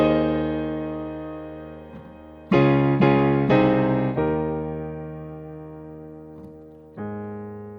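Piano plays the second phrase of the intro to a song, sustained chords with a cluster of struck chords near the middle, each decaying slowly before a final chord, solo and close.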